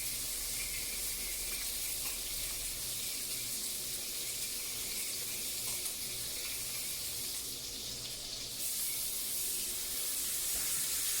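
Steak pan frying in a hot pan, giving a steady, even hiss of sizzling that runs continuously and fairly loud, with no voices.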